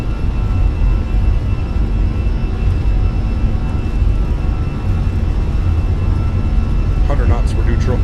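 Fenix A320 with CFM engines spooling at takeoff power in Microsoft Flight Simulator, a loud, steady jet roar with a broad rumble throughout, and a voice talking over it.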